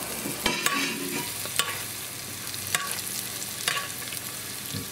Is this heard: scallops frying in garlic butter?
yes